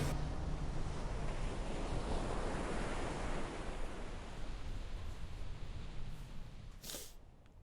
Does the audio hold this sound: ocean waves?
yes